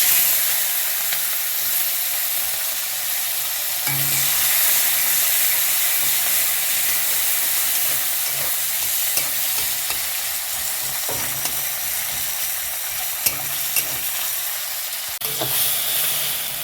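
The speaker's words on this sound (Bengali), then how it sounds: "তো পেঁয়াজগুলো ভাজা হয়েছে" Chopped onion, green chili and tomato with black cumin seeds fry in oil left from frying fish, giving a continuous loud sizzling hiss broken by occasional stirring scrapes and clinks.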